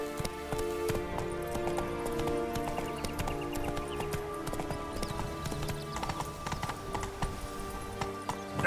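Roach, a horse in The Witcher 3, clip-clops steadily at a walk throughout, hooves close and clear over a layered game soundtrack, with no one talking.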